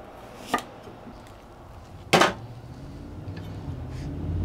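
Two crisp knife strikes on a cutting board as a vegetable is sliced with oblique cuts, single taps spaced about a second and a half apart over a quiet kitchen backdrop.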